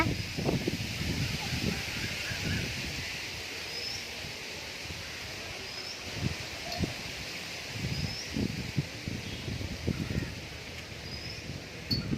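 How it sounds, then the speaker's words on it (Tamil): Wind blows steadily with a broad rushing hiss, dull gusty thumps buffeting a nearby microphone, and faint bird chirps in the distance. "காற்று அதிகமாக கேட்குது சத்தம் உங்களுக்கு சரியாக கேட்குதான்னு தெரியல"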